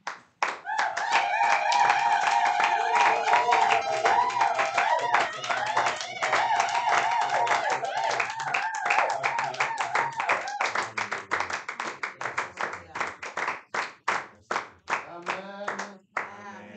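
A church congregation claps and applauds through a Sunday service, dense rhythmic hand claps over singing voices and music, the clapping growing sharper and more separate toward the end.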